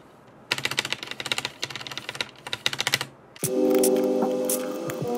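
Keys clatter on a newly built budget mechanical keyboard plugged into a laptop: several quick bursts of crisp typing with short pauses, close and loud, then a steadier hum takes over near the end.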